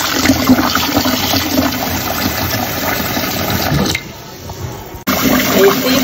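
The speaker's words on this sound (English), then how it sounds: "I'm going to wash the rice till it's really, the water is clear." Tap water runs steadily into a pot while rice is rinsed until the water turns clear, a continuous close splashing rush that drops away briefly near the end and then resumes.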